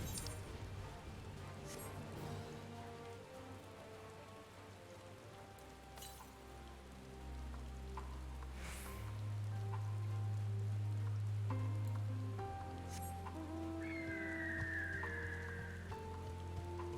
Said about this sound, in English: I like how it switches between rain and snow with the weather.